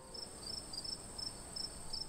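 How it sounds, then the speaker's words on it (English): Crickets chirping as a sound effect, a steady high pulsing trill that repeats evenly over a soft hissy bed, faint and alone with no voices. "you'll get crickets."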